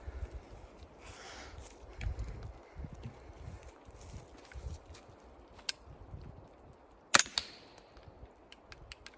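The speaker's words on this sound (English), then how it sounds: "I'm basically just going to be shooting into the berm just to see how quiet this is." A suppressed AR-15 fitted with a CMMG .22LR conversion fires into an outdoor berm: one sharp, brief crack stands out against a quiet background of wind and faint shuffling, with a few fainter clicks around it.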